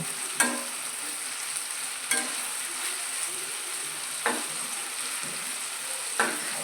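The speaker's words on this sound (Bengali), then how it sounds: "এই রকম করে বারবার করে ঢেকে জলের ছিটে দিয়ে সবজিগুলো নরম করে নেব" Mixed vegetables soften in a covered pan with repeated splashes of water, giving a steady close sizzle broken by sharp clinks roughly every two seconds.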